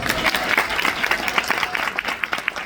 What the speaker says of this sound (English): Let's give Jennifer another big round of applause.